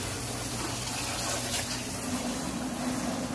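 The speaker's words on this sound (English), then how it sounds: "goes into the drain and right back into this bucket so the sump pump will not run dry" A sump pump recirculates dog-wash water from a drain back into a bucket at a bathing station, giving a steady, low, continuous whirr and gush of flowing water throughout with no talking.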